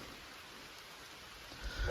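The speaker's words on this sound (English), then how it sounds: "It started raining the second we got to the top." Rain falling on a mountaintop in Vermont, soft steady hiss of drops, faint and distant, with a louder rustle near the end.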